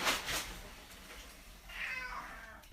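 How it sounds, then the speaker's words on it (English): A house cat gives a short, faint meow, a brief sound heard alone in an otherwise quiet room with a little low background noise. "Sorry, my cat is just coming in."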